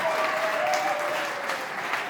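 Steady applause from a family gathering at a baptism and first communion celebration, clapping for the mother, with a faint sustained tone running beneath the clapping.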